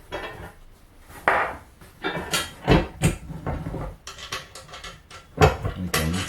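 Metal bolts being fed through holes on a Pyramid Screen Products HPT 1 colour compact screen printing press, giving sharp metallic clinks and scrapes in irregular bursts, close and moderately loud with quiet gaps between.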